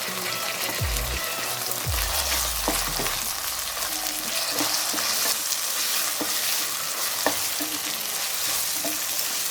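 A small bowl of peas goes into a hot pan over a medium gas flame, setting off a loud, continuous frying sizzle. A few scattered clinks from stirring are heard, and no one speaks.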